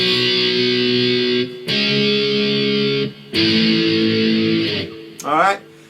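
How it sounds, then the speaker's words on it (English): Distorted electric guitar power chords from an intro, each strummed once and left ringing, three in a row, followed by a brief sliding squeal. "It's just 4 power chord shapes, strumming them just once"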